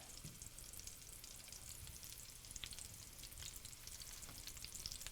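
Chicken piccata meatballs frying in a pan, a steady, crackling sizzle with spitting pops that runs evenly throughout at a moderate distance, with no talking.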